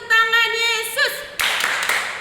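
Children at a Sunday school service clap their hands together in quick bursts, with a singing voice over the first half and a few sharper claps closer in toward the end.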